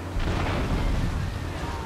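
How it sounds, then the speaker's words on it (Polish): A van blows up in GTA 3, a dense, sustained roaring blast that rumbles at steady loudness for about two seconds. "Największa imprezka się zrobiła z tego wybuchu."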